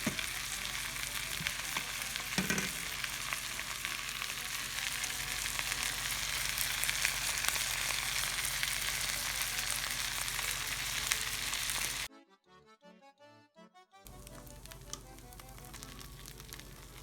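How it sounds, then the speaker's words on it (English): Butter and flour roux cooking in a pan for a gravy after venison roast bundles come out, a steady dense crackling sizzle heard close up, continuous for about twelve seconds, briefly cutting out, then resuming softer. "we have the flour in with our butter, and we're just making that roux"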